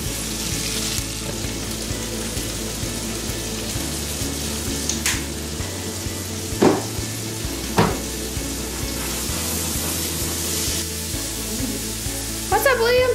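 Asparagus fries in butter in a pan with a steady close sizzle, broken by occasional clinks and scrapes of stirring, while a low hum runs underneath.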